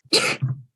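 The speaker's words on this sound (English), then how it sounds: "That was the cutest sneeze." A short, high-pitched human sneeze, light and squeaky like a kitten, sounds close and alone, trailing into a brief low breath.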